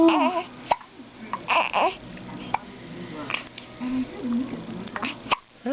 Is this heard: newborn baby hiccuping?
yes